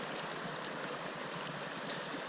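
A cold mountain stream in the La Garita Wilderness of Colorado flows in a steady, even rush, a continuous moderate wash of water with no voices.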